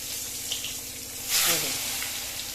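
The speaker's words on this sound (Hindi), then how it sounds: "ये हो रहे हैं डीप फ्राई" Spiced eggplant pieces deep frying in hot oil for baingan bharta give off a steady, close hiss of bubbling oil, swelling into a louder sizzling burst midway before settling back.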